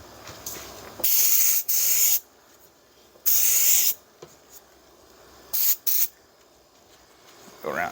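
A spray can misting paint onto a plastic door handle in short controlled bursts, several loud hissing sprays of about half a second each separated by quiet gaps, close up with no talk.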